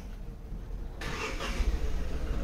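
Vehicle engine approaching from behind at night, a low rumble that swells suddenly and grows louder and closer, with no talking.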